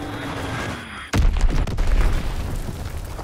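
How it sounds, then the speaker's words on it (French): Bomb from an enemy bombing run in Call of Duty WWII landing with a sudden heavy boom, followed by a rumbling tail and scattered crackling blasts, close and loud. "Bombe ennemi larguée"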